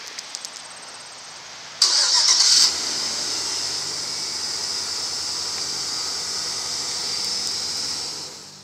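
A 2014 GMC Savana conversion van starts by remote start: a brief cranking burst, then the engine settles into a steady, loud idle with broadband hiss, recorded close with no talking.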